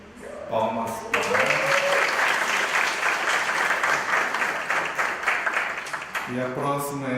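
A crowd at a Japanese-Brazilian community gathering breaks into steady applause for a named participant, dense clapping that swells quickly and holds for several seconds, framed by a speaking voice at the start and end.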